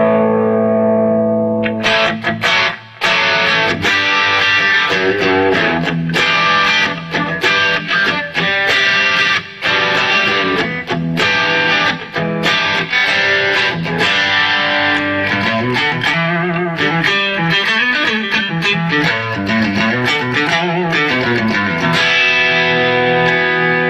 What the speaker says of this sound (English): listen to the reverb